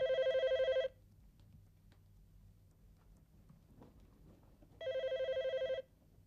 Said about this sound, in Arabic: سأرد على الهاتف.